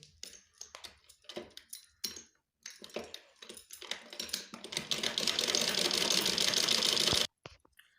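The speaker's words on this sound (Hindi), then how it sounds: "अब हम इस तरह की सिलाई लगाते हैं।" A sewing machine stitches fabric for a sewing machine cover at home. Short, quiet bursts of clattering needle action come first, then a steady, louder run of several seconds that stops abruptly, with faint clicks after.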